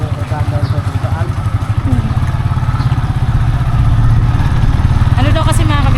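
Motorcycle engine running on a road, a loud close throbbing idle with rapid steady pulses and clatter, while people talk over it.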